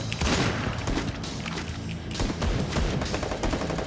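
Explosions and rapid gunfire from a Free Fire match form a dense, continuous barrage of overlapping shots and thuds, loud and busy throughout, with no talking.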